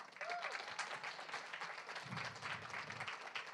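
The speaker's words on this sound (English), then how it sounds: "round of applause for all these performers" An audience at a regional poetry recitation competition applauds the performers with steady, faint, distant clapping that carries on throughout, with a voice speaking over it.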